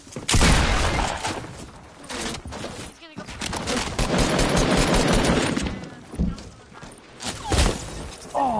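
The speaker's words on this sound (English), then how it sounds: "Oh, I got sniped." Rapid gunfire from a multiplayer shooter video game, dense bursts of shots and impacts filling the whole stretch, loud and close, with no one talking over it.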